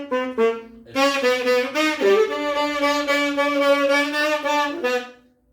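A saxophone plays a scale with each note crisply separated by tongue attacks, a quick run of distinct reedy pitches up close, ending on a held note that fades away.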